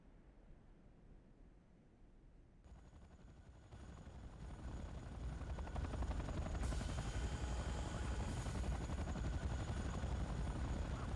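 A transport helicopter's rotor thrum in the video game Command & Conquer: Renegade swells from faint to loud and steady, a dense chopping roar that fills the space as it closes in.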